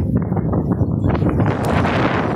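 Strong wind buffets the microphone on the Manila Bay shoreline, producing a loud, continuous rumbling gust with rustling, close and unbroken throughout.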